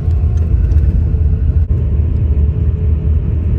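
Steady, loud engine rumble from inside a Volvo bus on an overnight Mumbai to Bangalore journey, a continuous low drone with a brief dip partway through and no talk.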